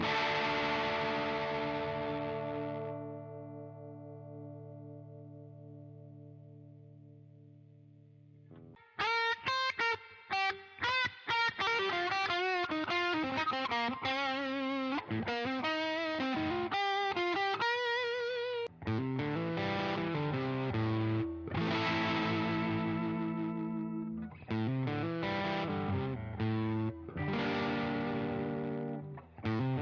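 An electric guitar runs through a Donner Third Man Triple Threat fuzz pedal: a sustained fuzzy chord slowly decays into near silence, then choppy, distorted riffs and bends play loud and upfront, with no talking.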